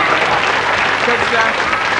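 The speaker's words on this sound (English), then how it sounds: "I think she deserves a round of applause for that." Studio audience applause on a 1988 live television variety show, a steady dense wash of clapping that fills the whole moment at high volume.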